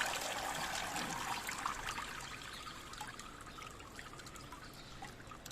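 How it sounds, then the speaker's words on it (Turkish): Water trickles and pours onto succulent plants, a soft, steady splashing stream heard close up that slowly fades quieter. "Bu su azaldığında tekrar üzerine ilave ediyorum."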